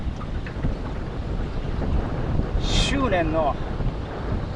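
Strong typhoon wind blows hard across the water during topwater fishing, a steady rough roar buffeting the microphone, with a brief spoken phrase partway through.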